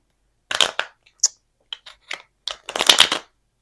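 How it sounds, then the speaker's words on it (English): Tarot cards are shuffled by hand in short riffling bursts separated by brief pauses, with a longer riffle at the end, close and crisp. "Let me get a clean shuffle."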